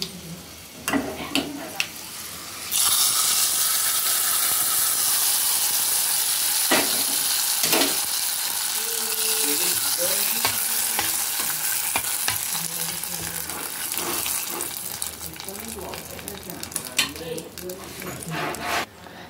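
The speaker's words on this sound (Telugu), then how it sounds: "ఎండుమిరపకాయలు వేసుకొని బాగా ఫ్రై చేసుకోవాలి." Dried chillies fry in a tempering for pappu tomato curry, then lentils are added. A few utensil clicks give way to a loud, continuous close sizzle, with spoon scrapes and stirring that grow softer toward the end.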